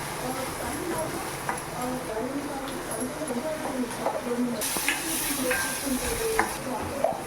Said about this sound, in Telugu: ఆనియన్స్ మగ్గేంత వరకు వేయిస్తాను